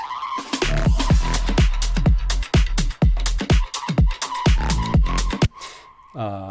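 Synthesizer patch called Poliwag with feedback delay, loud and busy, with rapid repeated downward-sweeping zaps over a sustained droning tone, ending in a short warbling tail; no talking.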